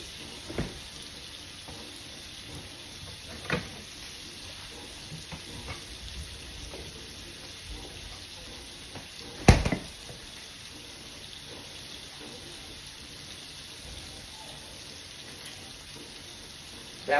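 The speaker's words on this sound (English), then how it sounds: "That water is to a boil." Water bubbling and hissing steadily in a pot, a constant rushing simmer with a few sharp clanks and knocks scattered through.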